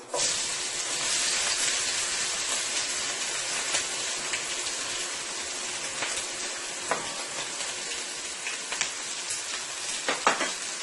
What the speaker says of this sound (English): The first thing I am going to do, I'm going to add my 1 onion into the pan here.